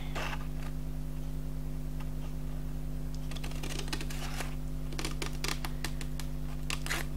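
Paper being cut for a handmade scrapbooking gift box, with a few sharp snips and crisp paper rustles close by over a steady low hum, no talking.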